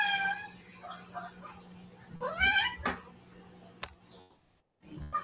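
A neighbourhood cat meows repeatedly at night, several drawn-out cries clustered in the first three seconds at moderate distance, followed by a sharp click and faint background sounds.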